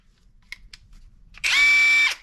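A cordless 3/8-inch impact wrench, model WH450, runs in a short, loud burst of high whirring after a couple of faint clicks, heard close by.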